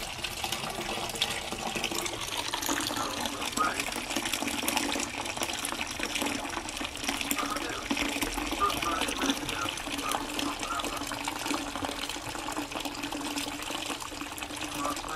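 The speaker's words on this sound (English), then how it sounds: "That's draining away nicely now." Water draining away with a steady, continuous gushing and trickling flow that holds even and fairly close the whole time, with no talk over it.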